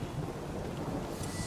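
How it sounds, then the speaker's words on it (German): A storm rages in The Witcher 3 game world, a steady wash of rain and wind with low thunder rumbling throughout, broad and continuous with a slight brightening of hiss near the end. "Ein Sturm, verdammt."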